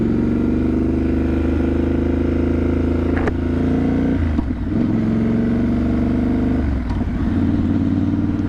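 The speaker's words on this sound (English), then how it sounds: "Third gear, barely any throttle." A Triumph Scrambler 1200 motorcycle cruising in third gear at barely any throttle, a loud steady low engine drone with wind noise, holding an even pitch with slight dips in load.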